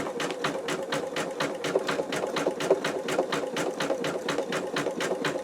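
An embroidery sewing machine stitching out a satin stitch on an in-the-hoop wallet runs in a fast, steady chatter of rapid needle strokes, loud and close, with no talking.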